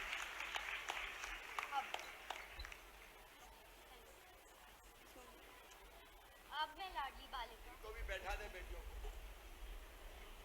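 Scattered, fairly faint audience clapping at the Ladli Laxmi festival held at the Madhya Pradesh chief minister's residence honours performers, then fades as a voice begins speaking over the hall.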